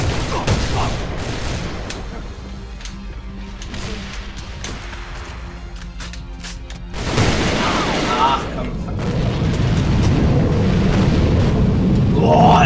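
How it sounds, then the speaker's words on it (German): Support call-in effect in the shooter game A.V.A, booming, explosive bursts with heavy low rumble, loud and continuous, growing denser in the second half amid battle noise. "Ja, dieses Geräusch, wenn du Unterstützung anforderst."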